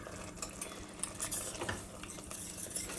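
Ginger-garlic paste frying in hot oil for a chicken gravy, a soft continuous sizzle with scraping stirs and light utensil clicks against the pan, fairly quiet and steady throughout.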